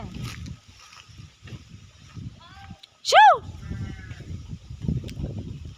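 A sheep gives a single sharp, fairly loud bleat in an outdoor flock setting, set against quiet background rustling and intermittent low noise.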